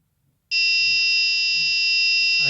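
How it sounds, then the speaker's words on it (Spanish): After half a second of near silence, an Arduino MQ6 gas sensor alarm set off by burning incense smoke starts a piercing, continuous high-pitched electronic tone that holds steady and loud to the end. "se activó la alarma de MQ6 por gases que se desprendieron de la madera"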